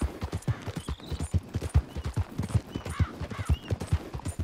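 Horse hooves clip-clop at a steady trot in the video game Red Dead Redemption 2, a rhythmic series of close, distinct thuds with faint game ambience behind.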